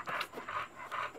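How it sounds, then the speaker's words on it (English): An English bulldog pants close by in three quick breathy bursts, each with a short pause between, with no talking. "And she's an English bulldog."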